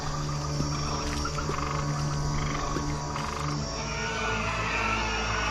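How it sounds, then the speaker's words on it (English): A dense, continuous chorus of croaking frogs fills the scene, loud and steady with overlapping calls and no pauses. "The stinking blood waters suddenly produced millions of frogs."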